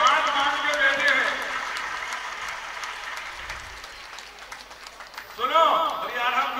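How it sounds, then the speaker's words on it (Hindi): A temple audience at a Bundeli youth gathering in Sagar claps together in a continuous rolling wave that gradually fades and then swells again near the end, with people talking over it. "तालियां तो बजाओ भैया"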